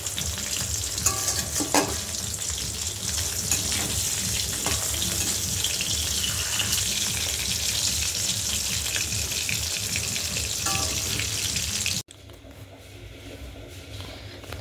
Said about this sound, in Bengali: এদিকে আমার এই মাছটাও প্রায় ভাজা হয়ে গেছে